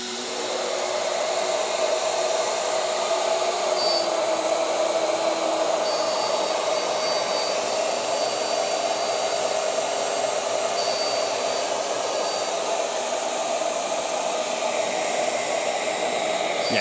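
Shaper Origin handheld router carving HDPE plastic to a depth of an eighth of an inch, a steady, loud high-pitched whine with broadband hiss that runs unbroken throughout.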